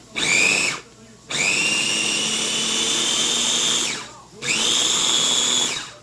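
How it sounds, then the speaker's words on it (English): Ingredients for paleo dirty rice being chopped by a motorized kitchen appliance, heard as three loud, steady whirring bursts, each starting and stopping abruptly with short quiet gaps between. "now I'm going to chop them"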